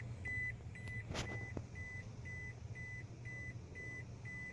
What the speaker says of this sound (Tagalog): Built-in alarm na yan, stock sa Toyota.